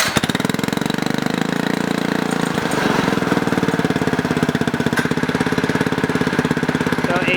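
A Predator 212cc go-kart engine fitted with a screw-on muffler runs steadily and loud, its rapid firing pulses forming a continuous mechanical chatter throughout with no talking.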